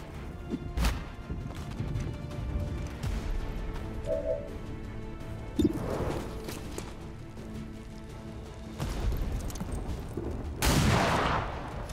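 Gunshots in the video game XCOM 2, a few sharp shots and impact crashes scattered over a busy battle backdrop of clanks and rumbles, with no talking.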